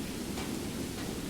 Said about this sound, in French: ça pleut, hein.